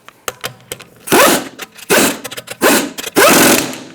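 Lug nuts on a Buick Encore rear wheel are run down with a power tool, in several loud whirring, rattling bursts separated by short clicks and brief pauses.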